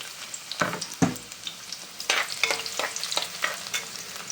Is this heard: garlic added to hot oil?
yes